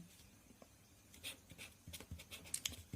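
Pen or chalk scratches out a matrix equation by hand, with faint, close strokes and short scribbling bursts that grow busier toward the end and no speech over them.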